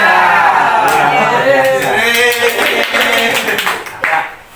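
A group of people clap together in the rhythmic 'healthy clap' routine at a school positive-culture dissemination gathering, with loud, dense bursts of hands and shouted voices mixed in, fading near the end.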